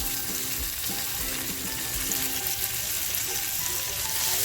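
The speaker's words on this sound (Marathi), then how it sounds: "आता हे जे पनीरचे पीस आहे ते फ्राय करून घेते" Paneer pieces fry in hot oil for smoky paneer masala, a dense, loud, steady sizzle with crackling close to the pan.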